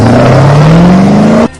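A Chevrolet Camaro's engine revs up close and loud, its tone climbing steadily for over a second before cutting off abruptly.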